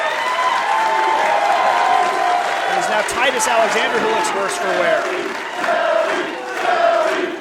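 Wrestling crowd cheering and applauding for Alex Shelley in his match against Titus Alexander, a steady loud roar of many voices throughout with a commentator talking over it.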